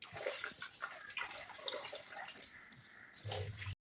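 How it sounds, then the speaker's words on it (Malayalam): Soaked toor dal being washed in water for parippu vada, with water splashing and dripping at close range in a brief, uneven run of wet sloshes, a louder swirl near the end. "4 മണിക്കൂർ പരിപ്പ് വെള്ളത്തിലിട്ട് നന്നായി കുതിർന്ന ശേഷം ആയിട്ട് കഴുകിയെടുക്കണം."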